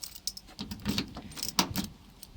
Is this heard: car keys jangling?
yes